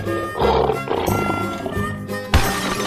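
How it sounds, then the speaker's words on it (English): A lion roars loudly over a dense bed of background music, a short rumbling cry followed by a sharper burst near the end, in an animal-guessing escape room game. "Lion."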